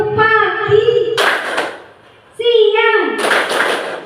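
Children chant together in a rhythmic clap routine, their sing-song voices broken by two sharp bursts of unison hand claps, each followed by a short pause.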